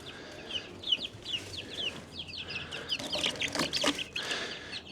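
Baby chicks about three and a half weeks old placed into their brooder, giving a flurry of close, bright repeated peeps and cheeps with some rustling, with no talking.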